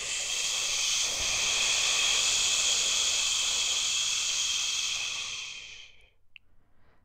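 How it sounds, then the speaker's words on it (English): A long, steady hissing exhalation pushed out through the mouth during a yoga breathing exercise, close and continuous for several seconds before fading into quiet. "again sizzling the breath out"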